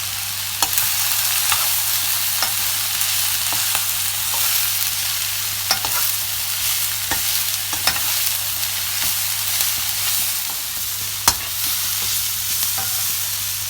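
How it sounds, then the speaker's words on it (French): Onions browning in a pan with turmeric, cumin and ginger for a lamb tajine, a loud continuous sizzle with occasional sharp spatula taps and scrapes throughout, nobody speaking. "Voilà, mes oignons bien rissolés."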